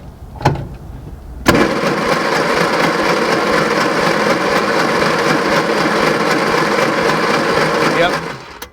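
A car engine cranks over at full throttle on the starter during a compression test, a steady loud droning whir that holds for about seven seconds after a brief click and a short voice at the start.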